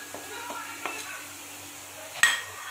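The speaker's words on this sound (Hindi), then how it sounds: "अच्छी तरह से मिक्स कर लूँगी" Spoon stirring turmeric, salt and cumin in a pan for dry capsicum paneer masala, with soft scraping strokes, a faint sizzle beneath, and one louder clink of utensil against the pan near the end.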